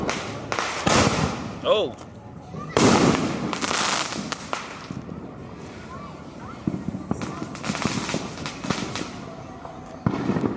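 Fourth of July fireworks in Allentown going off as sharp, loud booms and crackling bursts at irregular intervals, some close and some farther away, with people talking and exclaiming between the blasts.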